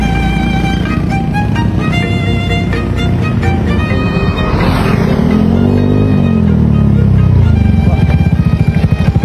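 Honda Beat v3 superstock scooter engine revving hard and close, a loud continuous buzzing roar that climbs in pitch midway and holds high to the end.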